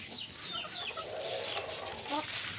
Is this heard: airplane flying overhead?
no